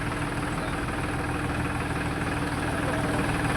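A tractor engine runs steadily at a low, even throttle, with a constant deep rumble and vibration that stays close and loud throughout.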